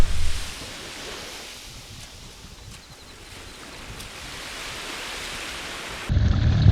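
Ocean waves washing near tidal flats on a remote Barrier Reef island, a steady low surf rush with wind noise, quieter in the middle and surging louder at the end.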